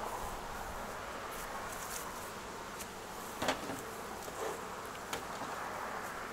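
Honeybees from a captured swarm fly around a hive and a trap, a faint steady buzzing drone with a few brief louder passes and light clicks.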